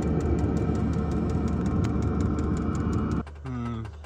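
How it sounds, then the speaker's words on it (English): A diesel heater in a camper van in the Arctic cold fails to start, its fuel pump ticking in a steady rhythm over a loud continuous drone that drops away abruptly near the end. "Still no life in the diesel heater, just pumping away"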